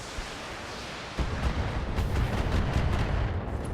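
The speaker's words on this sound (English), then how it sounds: "strikers, get some missiles" Missile strikes rain down in the BattleTech video game, a dense rumbling barrage that starts abruptly about a second in and continues as sustained, overlapping blasts and crackle.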